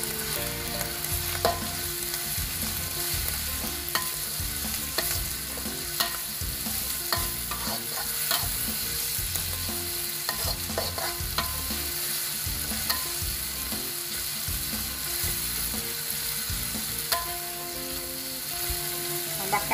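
Ground chili sautéing in a pan for a stir-fry of bitter melon, tempeh and dried shrimp, giving a constant crackling sizzle with rhythmic scraping and clicking of a spatula stirring throughout.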